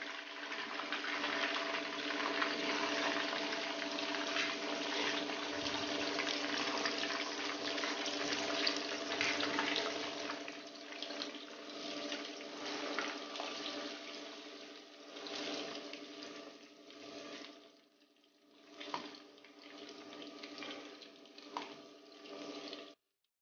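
Prawns frying in hot oil over a medium flame for pickle, giving a continuous dense sizzle and crackle that slowly thins and settles toward the end, with no talking.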